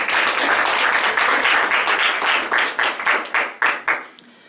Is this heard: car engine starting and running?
no